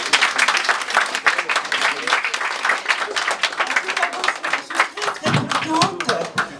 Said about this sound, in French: Et je crois qu'on peut applaudir Babette de Rosières.